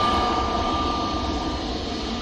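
A Ryanair airliner takes off from Manchester Airport bound for Oslo, a steady engine roar with a sharp high tone, fairly loud and unbroken over a brief stretch.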